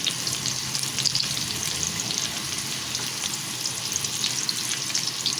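Cooked rice being sautéed in hot oil with onion and garlic, a steady close crackling sizzle with faint stirring, no talking.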